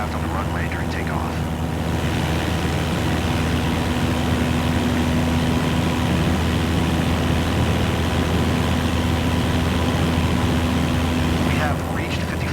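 A light propeller aircraft in MSFS 2024 taking off at full power on a runway, a loud continuous engine and propeller drone with a steady low hum that holds throughout.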